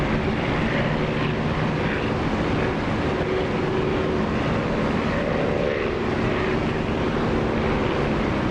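A propeller aircraft engine drones steadily just after takeoff in the DCS flight simulator, a constant loud roar with no breaks and no voices.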